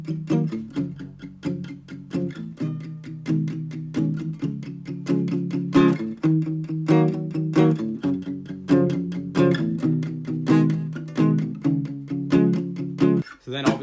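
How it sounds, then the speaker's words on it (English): Acoustic guitar played with palm-muted down strokes, a steady close rhythm of short, damped chord strums repeating throughout with no talking. "so resting your palm lightly on the strings and strumming like this."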